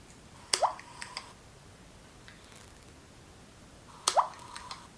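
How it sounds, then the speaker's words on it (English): Two water drips fall about three and a half seconds apart, each a sharp plop with a short ringing tail, heard alone against quiet background hiss. "It was the sound of water dripping."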